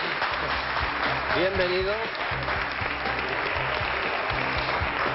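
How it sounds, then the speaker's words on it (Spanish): Steady TV studio audience applause, loud and dense throughout, with a host speaking over it briefly and a low rhythmic musical pulse underneath. "un aplauso para el señor Koplovich"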